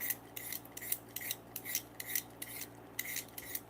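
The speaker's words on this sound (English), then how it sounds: "So I just gonna peel them and grate them." Potatoes being peeled for hash browns: about nine quick, rhythmic scraping strokes, close and clear, with no talking.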